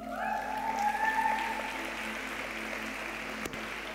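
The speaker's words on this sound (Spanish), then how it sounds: "Dale un aplauso al Rey." A church congregation claps in a sustained, even patter, a bit fuller at the start and easing slightly, with a faint tonal hum from the room beneath it.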